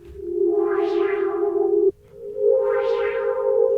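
Evolving Serum synth pad whose LFO sweeps the wavetable position, a sustained tone with a rising-then-falling bright shimmer that repeats twice, the held note shifting slightly in pitch at the midpoint.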